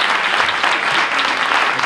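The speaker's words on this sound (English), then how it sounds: "With a round of applause." Audience applause welcoming Congresswoman Esty to the stage at a Ramadan community program, a dense, steady wash of clapping from a crowd that holds even throughout.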